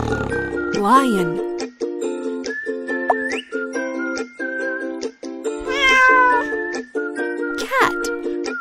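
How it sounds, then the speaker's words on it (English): A cat meowing in a kids' animal app game, a clear cartoon meow rising over a repetitive upbeat game melody. "Cat."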